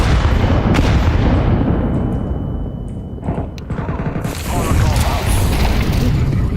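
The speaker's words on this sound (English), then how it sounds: "I'm throwing a grenade." A heavy, booming grenade blast in a video game erupts amid loud ongoing combat noise, with a deep rumble trailing off before more clatter and voices talking over it.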